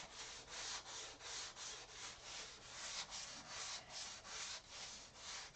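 Sandpaper of 320 grit is rubbed back and forth over model plane sheeting on a molding buck, making a steady run of about fourteen soft, rhythmic scratchy strokes, close and quiet.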